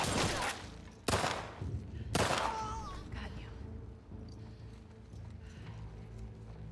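Gunfire in the video game The Last of Us Part II: three sharp, loud shots roughly a second apart, each dying away over a low, steady game background.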